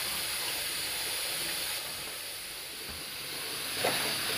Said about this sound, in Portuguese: Aqui o feijão já está fervendo.